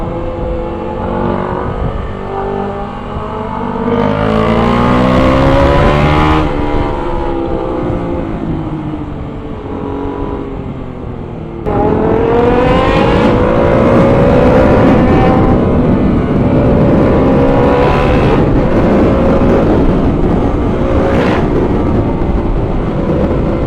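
A Kawasaki Z900 motorcycle engine revs hard on a street ride, with loud rising and falling revs in repeated surges, long sustained high-rpm pulls and brief drops between them.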